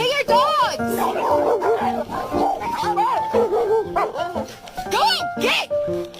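Several dogs bark and yelp in quick, overlapping bursts close by, mixed with loud human voices talking and calling out over them.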